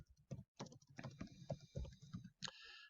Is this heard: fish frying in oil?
no